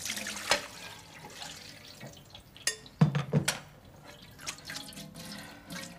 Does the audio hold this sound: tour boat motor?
no